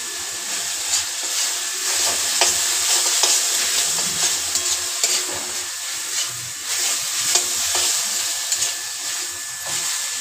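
Drumstick flowers frying with poppy seeds in a pan, a steady close sizzle and hiss with repeated scraping stirs throughout.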